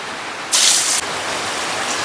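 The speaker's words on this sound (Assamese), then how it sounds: "বৰষুণ দিছে" Rain falls steadily as an even, close wash of hiss, with a brief louder burst of heavier pouring partway through.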